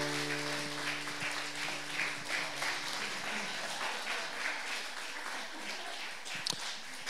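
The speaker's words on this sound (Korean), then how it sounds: "박수 한번 주시기 바랍니다." A church congregation applauds with dense, sustained clapping from many hands that carries through the whole stretch and rings slightly in the room, with a brief spoken voice at the start.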